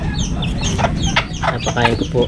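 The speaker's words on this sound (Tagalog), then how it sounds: "Magpapakain tayo ng mga manok." Chickens clucking and squawking up close in a busy flock being fed, with a brief spoken remark over the birds.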